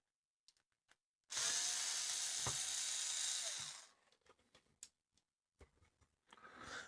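A power screwdriver spins out a screw from the back of a vintage tuner in one loud, high whirring burst of about two and a half seconds, followed by faint clicks and handling knocks nearby.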